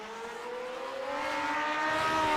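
Lotus 79 and Lotus 49 race cars in iRacing, their engines droning steadily with rising pitch as they accelerate down a straight, growing slightly louder toward the end.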